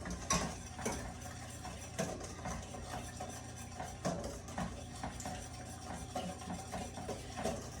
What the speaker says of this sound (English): I'm going to whisk this really well as this is heating up.